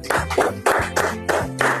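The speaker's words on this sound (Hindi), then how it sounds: "तालियां बजाइए एक बार।" An audience claps in a steady rhythm during a stage magic show featuring a flying table. Sharp, evenly spaced bursts of clapping ring out over faint background music.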